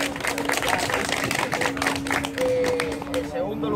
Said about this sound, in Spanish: Vaya, Morito, aplauso.